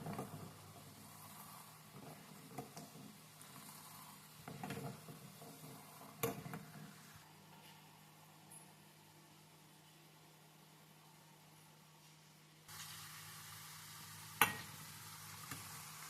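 Fenugreek seeds frying in hair oil while stirred in a pan, a faint steady sizzle with occasional scraping clicks of the spoon, quiet and close.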